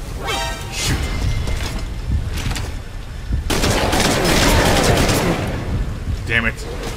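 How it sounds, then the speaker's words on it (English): Bursts of rapid gunfire and crashing impacts in Metal Gear Solid V: Ground Zeroes, loud and close, with dense sustained shooting in the second half. "Gunfire. No fix on the position."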